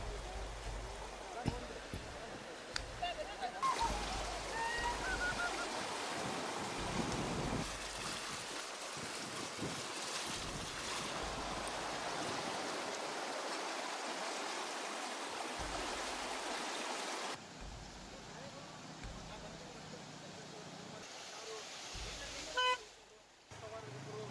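Floodwater of the Doni river surges past a submerged bridge in flooded farmland near Basavana Bagewadi, a steady broad rush with faint traffic and a horn, partly under a narrator's voice.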